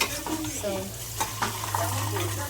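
Marinated food and peas fry in hot oil, a close, steady sizzle broken by a few stirring scrapes, with people talking over it.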